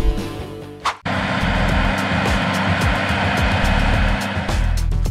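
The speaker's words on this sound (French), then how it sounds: "Le puissant bruit du moteur turbo et le panache de fumée noire caractéristique témoignent d'une génération de" A turbocharged tractor engine pulls a seven-share plough in a field, a loud, steady droning roar that runs continuously after a brief break near the start.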